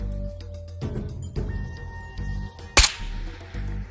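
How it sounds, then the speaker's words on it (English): SKS rifle fired in the Ghosts of Tabor VR shooter: a single sharp, loud crack near the middle, set among low rumbling game ambience and thuds, with no talking. "let's test this SKS"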